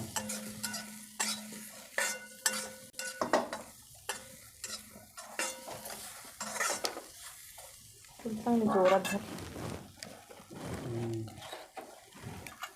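Coconut, tomato, ginger and chili roast in a pan over a wood-fired stove, heard as repeated scraping stirs and metallic clinks over a soft sizzle, with someone talking in between.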